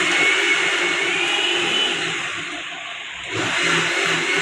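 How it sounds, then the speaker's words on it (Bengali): An electric blender grinds ginger with a steady whirring motor drone that dips in pitch and loudness midway, then surges back up as the blades spin free again. "আলিফ ওদিকে আদাটা ব্লেন্ডার করতেছে"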